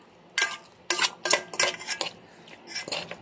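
Sisig seasoned with pepper is stirred in a pan, a metal utensil clanking and scraping against the pan in several quick, close strokes of uneven rhythm, with no voices.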